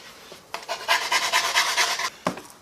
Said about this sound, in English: again with the sanding stick, I'm just going to go over very lightly all of the edges just to round them off a little bit